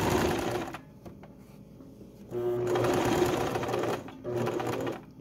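A sewing machine stitches a baby quilt in loud, close bursts of steady whirring motor and needle chatter, stopping briefly between runs as the fabric is repositioned.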